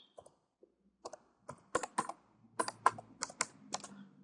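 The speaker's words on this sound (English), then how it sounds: "So we're going to type Windows" Keys on a computer keyboard are typed in quick irregular bursts of close, crisp clicks against near silence, with no talk.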